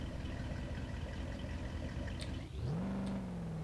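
In BeamNG.drive a wrecked car's engine keeps running after the driveshaft breaks and the gas tank is lost. It drones steadily at mid pitch throughout, and near the end a clear rising tone holds as the revs climb. Nobody speaks.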